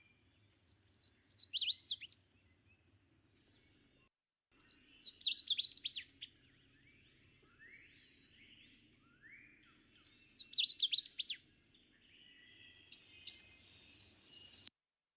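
A Louisiana waterthrush sings its cascading song in four bright, loud bursts of clear slurred notes, each around two seconds long, with faint chips between and silence around them.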